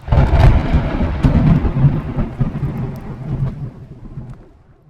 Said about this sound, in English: it's raining as well